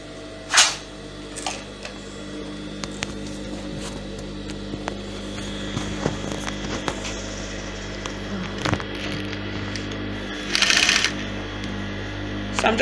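A sewing machine stitching the folded edge of an organza ruffled sleeve, a faint steady mechanical hum with scattered clicks and a brief louder burst near the end.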